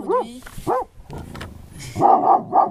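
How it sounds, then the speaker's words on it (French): A marsh guard dog barks in short bursts, two quick barks followed by a pause and then a louder cluster of three, fairly close, with no talk over them. "oui, on a, oublié de présenter ton chien"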